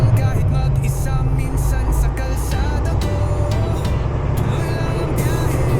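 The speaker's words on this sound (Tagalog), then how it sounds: "Ganda ng parada ng mga truck" Heavy trucks roll past on a road beside a gas station in Canada, a steady, loud, close engine rumble with a deep low drone throughout and no talking.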